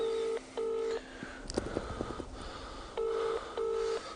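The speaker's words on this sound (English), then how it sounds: "It's a bloody phone." A telephone sounds in pairs of electronic ring tones, two bursts at the start and two at the end, with a brief clatter of handling noises in between.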